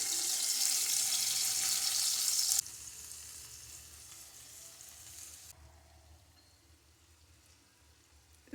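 Paneer pieces fry over a lowered flame, opening with a bright, loud sizzle that abruptly drops to a quieter crackle and then fades further to a faint hiss.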